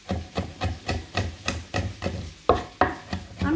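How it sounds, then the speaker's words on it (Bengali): Garlic cloves being crushed and finely minced with a knife on a cutting board: steady, evenly spaced chopping knocks, about four per second, close and clear with no talk. "পরে এরকম কুচি করলে রসুনগুলো একেবারেই মিহি কুচানো হয়ে যায়"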